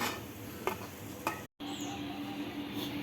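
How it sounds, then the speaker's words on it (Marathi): Spicy karanji pastries made from wheat flour deep-frying in hot oil until brown, a continuous close bubbling sizzle with a couple of brief utensil clicks and a momentary cut partway through, no voices. "या अशा ब्राऊन कलरवरती आपण त्याला तळून घेऊया"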